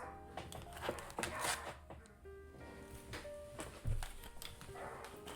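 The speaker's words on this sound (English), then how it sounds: "Dogs!" Several dogs barking in short bursts at a moderate distance, with some whimpering yips mixed in under faint household clatter.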